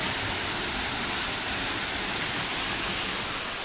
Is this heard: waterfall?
yes